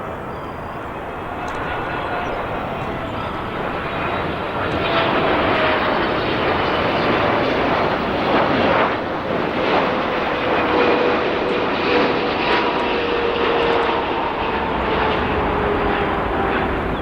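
A five-year-old Boeing 777 jet roars at O'Hare International Airport, its loud engine noise building over the first few seconds and then holding steady with a faint whining tone.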